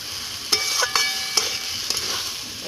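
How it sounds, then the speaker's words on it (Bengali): Spices sizzle in hot oil in a cooking pan, with a few sharp scrapes and taps of a stirring spoon at close range; no voices. "তারপরে জল দেবো ভালো করে ভাজা ভাজা হয়ে গেছে মশলা থেকে তেলও ছেড়ে দিয়েছে"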